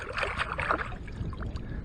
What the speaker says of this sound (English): Give it a quick rinse.